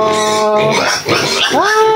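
Hungry pigs on a small farm cry out with loud, squealing calls, a rising wail near the end, close by and continuous across the moment.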